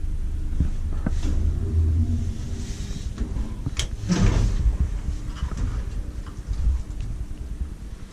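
Doors of a 1988 Kone M traction elevator at a shopping centre slide and clunk over a constant low mechanical rumble, with a few sharp knocks and rattles mid-clip, heard indoors at moderate distance.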